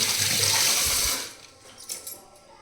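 Water gushes from household taps in a home, a loud, steady rush for about a second before dropping to a quieter trickle.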